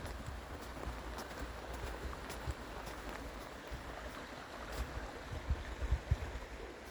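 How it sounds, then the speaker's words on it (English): The River Holme flows steadily nearby, a continuous rushing wash of water that stays at an even level throughout, with no voices. "I can hear the river over to my right"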